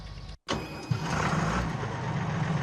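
A tractor engine in the Farming Simulator video game starts up after a brief silence, then settles into a steady, close, mid-pitched running drone with no talking.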